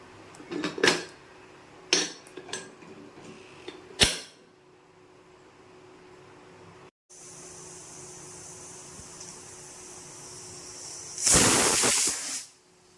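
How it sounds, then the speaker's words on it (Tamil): A pressure cooker lets out a long, loud whistling hiss of escaping steam near the end, after several sharp clanks and a steady background hiss, while cooking drumstick leaves. "ரெண்டு விசில் வந்துட்டு நான் ஆஃப் பண்ணிடுறேன்."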